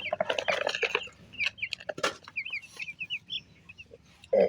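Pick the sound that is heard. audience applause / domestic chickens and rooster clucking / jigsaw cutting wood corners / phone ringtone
domestic chickens and rooster clucking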